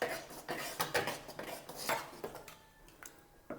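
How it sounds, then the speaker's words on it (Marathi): A spoon scrapes and clinks against a pot while wheat kheer with jaggery and hot milk is stirred, a run of close, irregular metallic taps and scrapes. "आता हे व्यवस्थित मिक्स करून घ्यायचं आहे"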